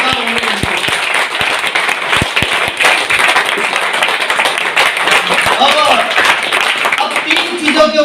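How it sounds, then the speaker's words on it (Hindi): An audience at a celebration in Bhiwandi claps loudly and steadily in sustained applause, with voices mixed into the crowd noise. "तो ताली जोरदार होनी चाहिए।"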